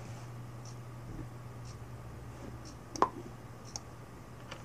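One faint, crisp computer mouse click selects a logo in Photoshop CS5, a lone tick against a quiet hum, with a softer tap shortly after.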